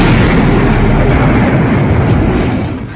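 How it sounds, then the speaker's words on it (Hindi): A loud, sustained roaring blast with heavy low rumble that slowly fades, like a large explosion in Moscow heard through a distorted recording. "इस धमाके पर ज़ेलेंस्की के नए ऑर्डर की छाप लगी हुई है।"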